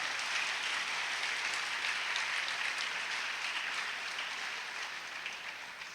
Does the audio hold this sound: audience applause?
yes